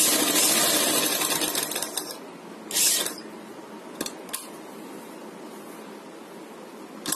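A sewing machine stitches a zigzag pattern on fabric for a poncho design. A rapid close mechanical whirring runs for about two seconds, followed by a short burst and a few clicks before quieter handling.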